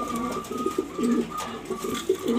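Young pigeons, two rounds old, coo in a series of close, throaty rolling phrases that repeat in short pulses. The birds are heard alone, with no voices.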